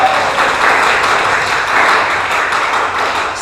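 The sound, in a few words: congregation applauding for Jesus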